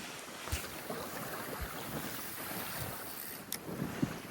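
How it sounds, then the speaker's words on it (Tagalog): Strong wind buffets the microphone at sea beside a fishing boat among anglers, a continuous broadband roar with low gusty thumps and a couple of sharper knocks near the end. "medyo malakas ang hangin"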